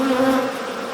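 Honey bees buzz steadily inside a hive while a beekeeper checks a frame for a new queen, a dense close drone with a stronger hum early on that softens midway, no voices.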